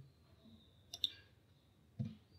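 A single key press on a computer keyboard while drafting in AutoCAD, giving a couple of faint, close clicks around the one-second mark and another soft tap near the end, over a quiet room hum.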